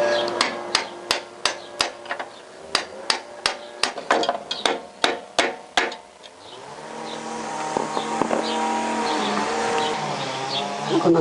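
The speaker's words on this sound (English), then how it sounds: "Big hammer, brass chisel." Repeated sharp metallic strikes of a big hammer on a brass chisel while stripping down a salvaged Honda CBR1000F motorcycle's rolling chassis, about a dozen evenly spaced blows up close, then steady mechanical rumble after the hammering stops.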